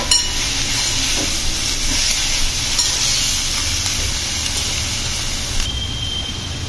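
A steady hiss and sizzle rises from cauliflower coated in masala cooking in a steel kadhai, an even, continuous sound without talking.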